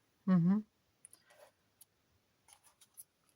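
A few sharp, light mechanical clicks from a paper hole punch used in scrapbooking follow a brief voiced sound, scattered irregularly and close by.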